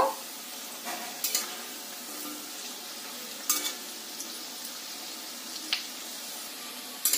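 Ripe mango fritters fry in hot oil as they are flipped. A soft, continuous sizzle runs throughout, broken by several sharp clinks and scrapes of a utensil against the pan. No one speaks.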